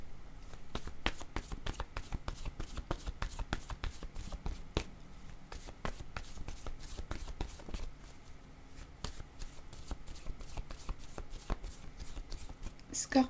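Tarot cards being shuffled, a long run of rapid crisp riffling taps and flicks close by, with a voice speaking over them at times.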